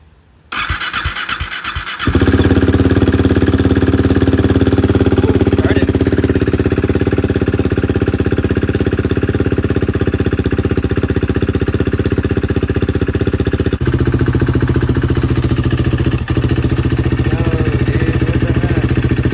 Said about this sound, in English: Let's see if the bike will start and run normally.